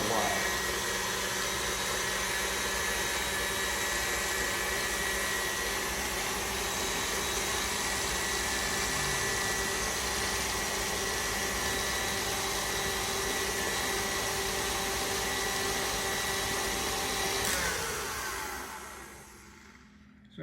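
An electric mixer beating peanut butter cookie dough hums in a steady, even whir for about seventeen seconds, then winds down and stops.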